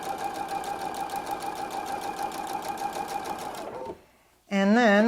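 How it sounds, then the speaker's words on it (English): An Epic 2 sewing machine stitches through a fabric quilt block, its loud steady mechanical whir running for about four seconds before stopping abruptly, followed by a brief pause and then a voice speaking. "I'm just going to sew that all the way through"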